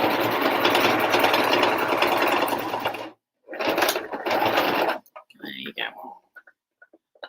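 A sewing machine stitches bucket hat fabric in a steady fast whir, runs forward, pauses briefly, reverses for a short stretch, then stops, leaving a few faint handling clicks.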